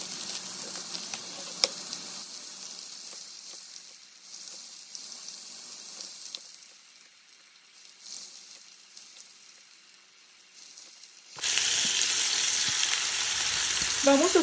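Refried beans sizzling steadily in a pan at a country-style Mexican breakfast cook, a soft crackling hiss that thins out midway, then jumps suddenly louder and brighter near the end.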